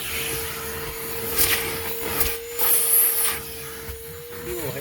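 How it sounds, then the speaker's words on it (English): A Ridgid dual 18-volt cordless vacuum cleaner running with a steady motor whine while cleaning up a dried syrup spot, suction rising and falling as it passes over the area, with someone speaking over it. "Go ahead and vacuum through here"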